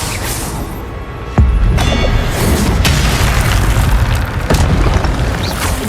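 Spells cast in combat in Hogwarts Legacy set off loud booming explosions, one sharp blast followed by several more heavy bursts over a dense, continuous roar of battle noise.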